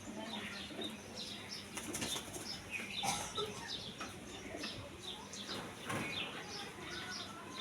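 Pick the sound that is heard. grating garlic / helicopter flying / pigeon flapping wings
pigeon flapping wings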